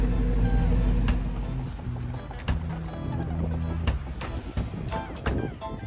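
A buddy's pickup truck hauling an old shed in its bed rolls along with a steady low rumble of road and engine noise, a few bumps and knocks standing out over the drone.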